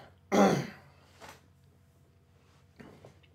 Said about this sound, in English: He'd cough a bit.